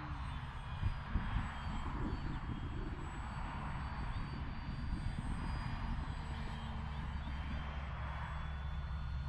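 A radio-controlled model airplane engine on its landing approach, flying on an early spring morning in Central Florida, gives a faint, steady distant drone that rises and falls slightly as the plane comes in.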